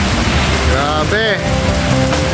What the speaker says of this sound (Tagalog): Naabot kami ng ulan dito sa Los Baños.